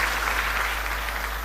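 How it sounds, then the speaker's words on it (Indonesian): Audience clapping at a Christian talk on dating, a brief steady wash of many hands applauding together, even in level and somewhat roomy. "Berikan tepuk tangan."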